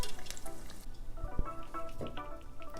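Banana pieces frying in hot oil for Balinese pisang goreng, a quiet bubbling crackle with scattered pops and a couple of sharp clinks from the pan or utensil.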